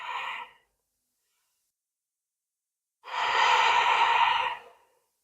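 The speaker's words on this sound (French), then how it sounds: "Continue ta respiration profonde par le nez" Deep breathing through the nose during a gentle yoga stretching routine: the tail of one exhale at the start, then after a silent pause a long, close, audible breath lasting about a second and a half, with no talking.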